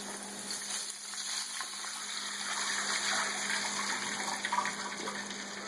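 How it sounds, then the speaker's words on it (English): A continuous rush of water pouring and gushing into a hot wok, steady and fairly close, with no talking. "we should add some water to it."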